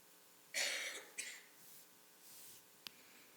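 Two sharp coughs close together, followed by a soft breath and a small click, in an otherwise quiet room.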